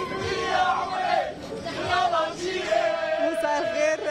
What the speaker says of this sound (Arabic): الجماهير الجزائرية عاملين حفلة